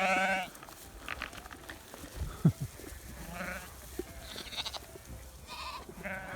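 Welsh ewes and lambs on a farm bleating in scattered calls, several voices at moderate distance over a rustling outdoor background, with no talk.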